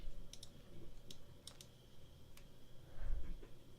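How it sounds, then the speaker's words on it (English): Computer keyboard typing during a livestream, a quiet scatter of soft clicks and taps at irregular intervals over low room noise, with no talking. "You're gonna hear some typing."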